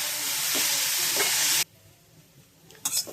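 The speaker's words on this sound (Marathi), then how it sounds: "त्याला सारखं हलवत राहायचं, कारण तो बुडाला चिटकणार याची काळजी घ्यायची. चांगला असा लालसर रंगाचा होईपर्यंत भाजून घ्यायचा आहे." Grated radish roasting in a pan for a quick radish chutney, stirred constantly as it browns. A steady loud sizzle with scraping stirs cuts off abruptly midway, followed by quieter sparse clatter and a short final scrape.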